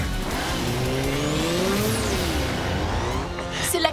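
The Dino Moto motorcycle from Power Rangers Dino Charge roars with sweeping, revving engine tones and tire-squeal-like whines, loud and continuous, ending with a sharp burst.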